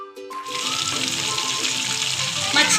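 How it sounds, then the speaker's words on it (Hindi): Fish frying in mustard oil in a pan, a loud, continuous close sizzle with a faint clink near the start. "अब मैं मछली फ्राई कर लूँगी दोनों साइड से 2 से 3 मिनट तक के लिए।"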